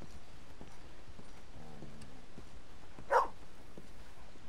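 A dog in the Red Dead Redemption 2 video game gives a single short, sharp bark near the middle, with faint softer whines before it, over a steady low ambient bed and light hoof clip-clop.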